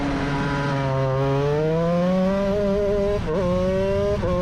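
A shifter kart engine on a test drive, a loud, buzzy two-stroke whine that climbs steadily in pitch as it accelerates. It dips and then picks up again twice near the end, close and continuous throughout.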